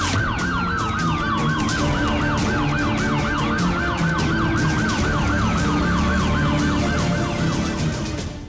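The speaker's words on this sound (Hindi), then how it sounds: "पुलिस की आवाज हमारे फोन से आ रही है, हमने सायरन की आवाज बजाई थी।" A police siren played from a phone wails steadily in a rapid rising-and-falling pattern, loud and continuous, with faint background noise underneath.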